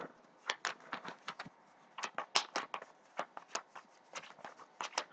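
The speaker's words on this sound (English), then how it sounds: "Shuffle this stuff up." Playing cards for the Forbidden Island board game are shuffled by hand, a quick irregular series of soft papery riffles and snaps, close and fairly quiet with no talk.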